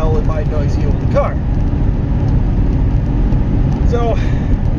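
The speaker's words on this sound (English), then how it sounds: "We are on the road, as you can tell, in my noisy old car." A noisy old car drives along the road, its cabin filled with a loud, continuous low rumble and road roar, with a voice talking over it.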